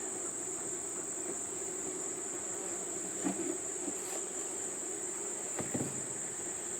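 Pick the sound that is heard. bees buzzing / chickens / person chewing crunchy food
bees buzzing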